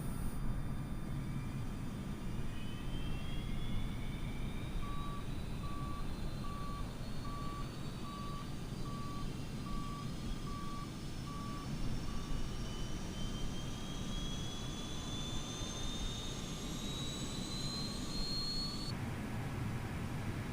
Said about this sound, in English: APU starting up